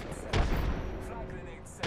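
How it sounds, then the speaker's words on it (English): Two sharp gunshots in a video game, one early and one near the end, with a rumbling background between them and a voice partly audible. "Shots fired."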